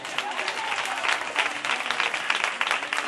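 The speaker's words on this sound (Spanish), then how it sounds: "Un aplauso para ella." An audience bursts into dense, sustained applause, many hands clapping together at close range for the full few seconds.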